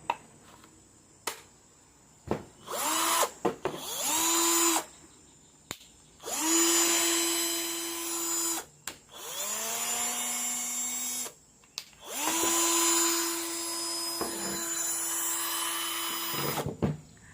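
A cordless drill with a newly replaced switch whirs in repeated bursts, its motor spinning up, holding a steady whine for a few seconds, then stopping, close and loud with short pauses between runs.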